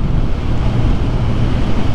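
Steady, loud wind roaring over the microphone while riding a 2022 Kawasaki Ninja 1000 SX motorcycle with an inline four-cylinder engine, a constant broadband rush with no talk.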